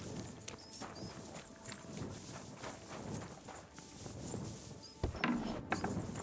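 Horse hooves clip-clop at a walking pace through a medieval town in Kingdom Come Deliverance 2, a steady close rhythm of hoof strikes over a busy ambient background, with a few sharper knocks near the end.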